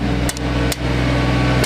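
A blacksmith strikes hot metal at a forge, three sharp hammer blows over a steady low roar and hum from the forge, close and loud.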